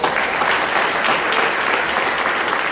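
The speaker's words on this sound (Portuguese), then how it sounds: "Vamos recebê-lo aplaudindo Jesus Cristo." A church congregation applauds to welcome a young man, a steady wash of dense clapping throughout, loud and continuous with no pauses.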